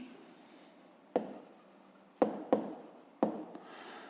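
A pen works through a math exercise on paper, with soft scratching and a few sharp taps, close and quiet, alone.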